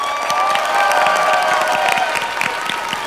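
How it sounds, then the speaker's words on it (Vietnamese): An audience on a Vietnamese TV game show bursts into applause and cheering, loud and continuous for about three seconds, with crowd noise mixed in. "Vỗ tay."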